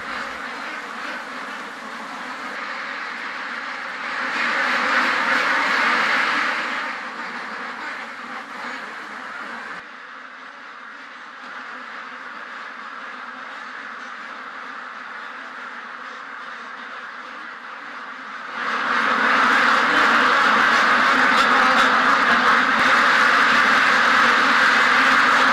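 A dense, continuous chorus of many ducks quacking fills an enclosed factory farm shed, swelling louder at moments, with no other sounds standing out.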